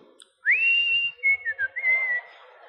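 A person whistling a tune in imitation, clear and close: a rising opening note held steadily, then a few short wavering notes and a final sustained tone, alone against quiet.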